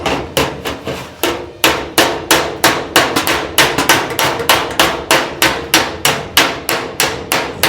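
Sharp metallic hammer strikes on sheet metal over a form, ringing out in a fast, steady rhythm, close and loud, about three blows per second with a brief pause early on.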